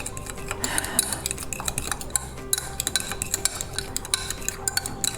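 A whisk clinks and scrapes steadily against a bowl as dry ingredients for pumpkin biscuits are mixed, a quick rhythmic metallic tapping heard up close with no talking.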